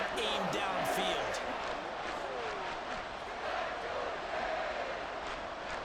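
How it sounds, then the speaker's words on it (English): A stadium crowd roars steadily in a Madden football game simulating the Buffalo Bills at the Miami Dolphins on Sunday Night Football, a dense continuous wash of cheering with a few thumps and swells, under a commentator's voice. "This crowd doing all they can."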